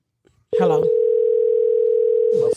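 A steady telephone dial tone drones on alone for about two seconds after a brief voice, the unanswered call to Gary's phone holding one flat, loud pitch before cutting off.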